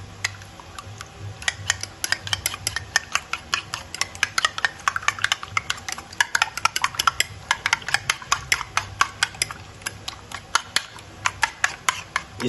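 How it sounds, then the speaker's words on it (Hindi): A spoon beats a cracked egg in a small bowl for shami kebabs, giving a quick run of sharp clicking taps that stay steady and close throughout, with no one talking. "एक अब अंडा तोड़ लेते हैं, तोड़ के इसको फेंट लेते हैं"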